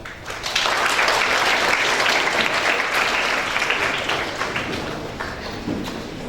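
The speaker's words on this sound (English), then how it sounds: "Let's everybody give them a round of applause." A high school audience applauds loudly, a dense, sustained roar of many hands that swells quickly and holds steady, easing slightly toward the end with no talking over it.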